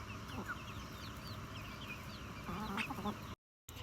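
Backyard chickens being fed scratch thrown on the ground, clucking and calling in a close, busy chorus of short repeated notes, with a brief gap of silence near the end.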